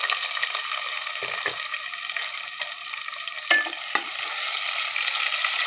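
Chopped onions sizzle and fry steadily in hot oil alongside garlic in a pan for a spicy Bengali beef bhuna, with a few stirring scrapes and clinks cutting through the continuous crackle.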